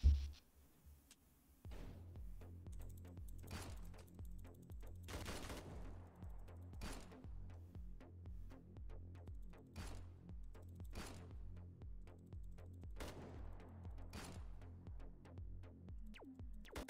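Roblox gunfire fired with an autoclicker: crisp, evenly spaced shots ring out one after another over a steady low in-game hum, quiet overall with occasional louder bursts.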